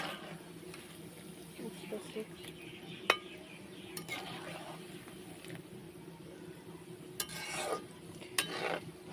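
Shankarpali frying in oil in a pan while being stirred, a soft background sizzle broken by scrapes and clinks of the spoon against the pan, with faint speech underneath.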